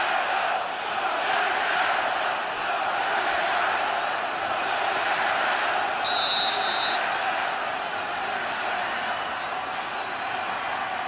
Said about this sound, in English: Fired the Pac crowd up for sure.